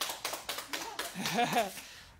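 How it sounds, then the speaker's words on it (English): A fitness class claps for a returning student: a quick, evenly spaced run of hand claps fades under a voice that begins talking near the end. "y'all clap for her"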